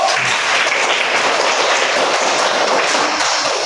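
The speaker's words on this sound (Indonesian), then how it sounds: "Mari kita tepuk tangan untuk kelompok satu." Classroom of students clapping together for a group after its presentation, a loud, dense burst of applause filling the room steadily without pause.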